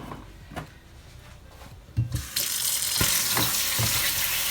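Kitchen tap water runs into a sink to rinse boiled beans, starting after a couple of soft clanks and a brief thud, then pouring steadily and loudly with occasional knocks of the pot or colander.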